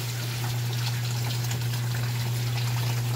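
An Electrolux LPR top-loading washing machine filling with water for a towel load, a steady close rush of pouring water over a constant low mains hum, continuous and unbroken.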